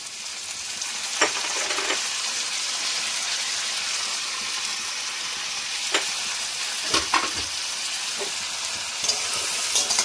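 Capsicum and peas fry for chowmein in a pan, a steady loud sizzle with occasional stirring scrapes and clinks throughout, no talking.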